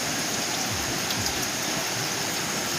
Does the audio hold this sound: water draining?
yes